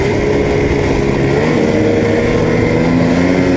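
Snowmobile engine running steadily on the first ride of the season, a loud, continuous close-up drone with a constant pitch and no pauses.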